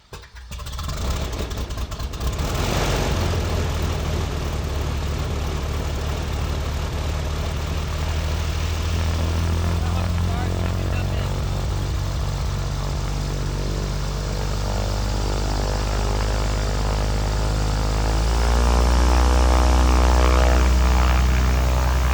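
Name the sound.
propeller airplane engine starting and warming up before airshow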